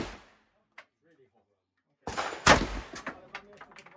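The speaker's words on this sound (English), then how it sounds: "The handgun is much harder." Handgun shots at a shooting range ring out as a cluster of sharp cracks after a quiet stretch, one loud report followed by several quicker, fainter shots, with brief talk beforehand.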